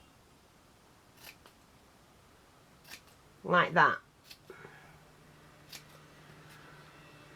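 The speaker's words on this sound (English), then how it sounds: "Where the curve starts, cut. You snip it" Scissors snip fabric at the start of a curve while making a miniature settee or armchair: a short, close burst of a few quick cuts with faint handling noise around it, and someone talking over the cutting.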